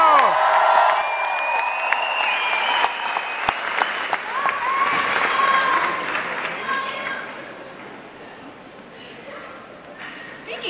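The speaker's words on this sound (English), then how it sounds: "please give a round of applause for Miss Mackenzie Mattson" A concert audience at the Zenith in Munich, at a show, applauds Mackenzie Mattson with sustained clapping and scattered cheers and whistles that gradually thin out toward the end.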